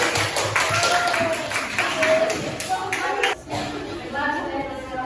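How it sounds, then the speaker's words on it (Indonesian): A classroom of students applauds a group before its presentation, a busy clatter of clapping mixed with shuffling and voices, briefly dropping then resuming. "Boleh kasih tepuk tangan untuk kelompok 1?"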